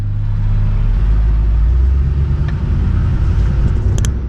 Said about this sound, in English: Watch as I pull out and press the gas down.